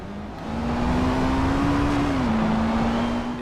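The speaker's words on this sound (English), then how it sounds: "the car noises and stuff are pretty decent" A car engine in the racing game Forza Horizon 2 drones steadily, rising in pitch as it accelerates and then dipping at a gear change before holding a smooth whine, loud and with no voices over it.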